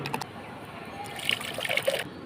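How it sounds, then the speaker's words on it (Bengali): Water poured into a blended raw mango drink made with coriander leaves, green chilli and sugar, giving a light trickling, splashing fill over about two seconds, fairly faint and close. "এখন পানি মিশাবো।"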